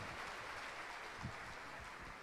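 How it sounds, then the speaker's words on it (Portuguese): Warm applause from a church congregation during a service, a brief, even roar of clapping throughout, with a faint low thump partway through. "dá uma salva de palmas aí bem calorosa"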